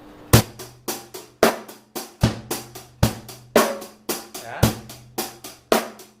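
A drum kit plays a 16-beat pattern: sharp, evenly spaced hits with kick drum thumps and ringing snare or cymbal strikes, loud and close, in a steady repeating groove with no talking.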